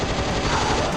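An assault rifle in the video game Doom fires in a dense, continuous rapid burst, loud and unbroken for the full second with no talking.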